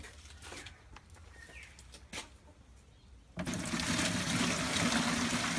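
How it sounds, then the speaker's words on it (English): Water is poured into a plastic tub ahead of a baking soda experiment. Faint trickles and knocks come first, then a loud, steady gushing pour starts partway through and keeps going to the end. "I pour the water in first."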